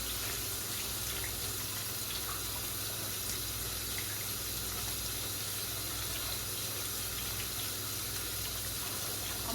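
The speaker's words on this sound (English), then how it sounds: "So washing my hands again." Kitchen tap running steadily while hands are washed, a continuous close broadband water rush without breaks and no talking.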